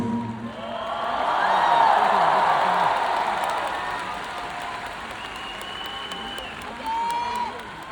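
A concert crowd at a 40th anniversary show claps and cheers, a dense wave of applause that builds, peaks, then slowly tapers off with a few whoops.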